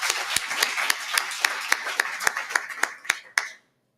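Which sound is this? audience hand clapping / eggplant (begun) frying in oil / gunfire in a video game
audience hand clapping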